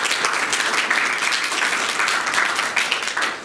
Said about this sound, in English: Please give her a huge clap.